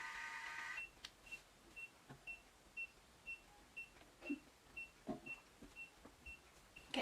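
A cordless automatic hair curler gives a series of soft, evenly spaced high beeps, repeating steadily against faint background noise.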